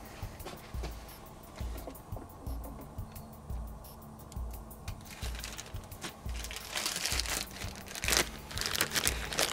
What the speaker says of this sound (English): Take a Ziploc bag, turn it inside out around your hand.